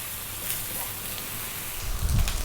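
Rice frying in a pan for carrot cumin fried rice gives a steady, soft sizzling crackle, with a slightly louder rustle near the end, no voices present.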